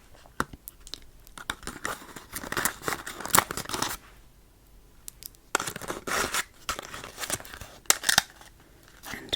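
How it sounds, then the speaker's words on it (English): Small perfume sample vials slid back into a paper envelope, giving close, crisp paper rustles and crinkles in bursts with a quiet pause in the middle, heard alone without talk. "let me get all of these little guys back in their envelope."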